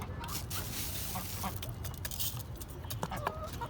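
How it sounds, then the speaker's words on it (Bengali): A flock of ducks quack and chatter while feeding, their calls dense and close over a constant noisy background, with scattered clinks and splashes mixed in. "তো দেখেন আমাদের হাঁসগুলো খাওয়ার জন্য কেমন অবস্থা করতেছে"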